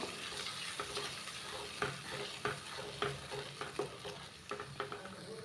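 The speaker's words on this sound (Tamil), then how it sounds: "நல்லா கைவிடாமல் கிண்டிகிட்டே வரணுங்க அப்படியே நல்லா ஒன்று ஒன்று திரண்டு வந்துடும்" A wheat flour and buttermilk dough is stirred in a pan, with repeated scraping strokes at an uneven rhythm over a soft, constant sizzle, heard up close and fairly quiet, with no talking.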